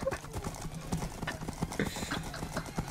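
Horse hooves clip-clop steadily in the video game Minecraft, a rhythmic run of hoofbeats with a whinny and busy game sounds mixed in.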